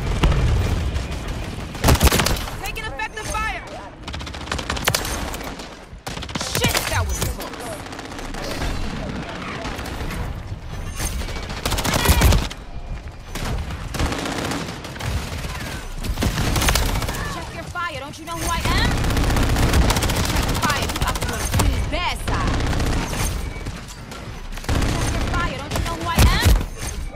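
Near-continuous Call of Duty Modern Warfare 3 gunfire on the Shipment map, loud rapid automatic bursts mixed with booms and explosions throughout, with voices talking beneath the shooting.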